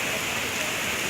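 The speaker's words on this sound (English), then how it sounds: "it's raining, pouring really hard" Heavy rain pours down steadily in a severe storm, a dense, constant hiss of water with no breaks, close and fairly loud, and no voices over it.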